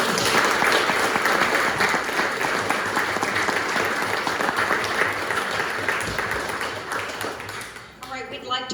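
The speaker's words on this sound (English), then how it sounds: "Can we have a round of applause for our candidates?" An audience at a meet-the-candidate event applauds the candidates with sustained, dense clapping that fades toward the end.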